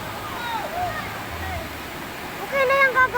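A strong river current rushes in a steady, moderate wash of water noise, with people talking over it and a brief higher whistle-like tone near the end.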